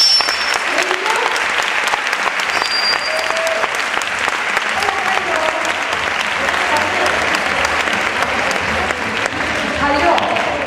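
Steady, loud audience applause as a singer comes onto a stage during a live show, continuous clapping filling the whole stretch with faint voices mixed in.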